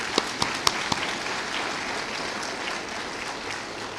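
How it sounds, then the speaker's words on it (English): Audience applause at a community college commencement ceremony, a broad, sustained wash of clapping from a large crowd, with a few sharp, distinct claps near the start. "Please join me in a round of applause for these special guests."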